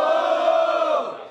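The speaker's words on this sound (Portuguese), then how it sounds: "Barulho, muito barulho para as rimas do Cássio." A crowd at a Batalha do Galo rap battle semifinal in Londrina roars and cheers in one loud sustained shout that fades toward the end.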